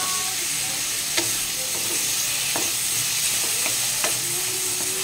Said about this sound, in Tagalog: Kunting gisa-gisa lang po.